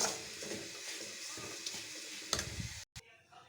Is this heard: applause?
no